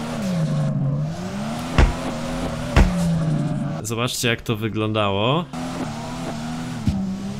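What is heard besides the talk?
drifting car engine and tires in DRIFT21 video game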